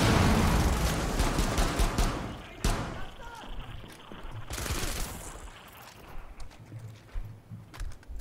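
Gunfire in the tactical shooter Rainbow Six Siege during an online match: rapid shots that fade into scattered thumps and clatter, with someone talking over them.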